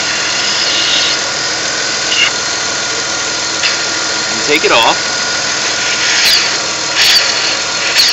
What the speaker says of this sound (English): inside the engine makes a little sound, and if anybody could tell me what it is, I'd appreciate it. You hear that little click sound?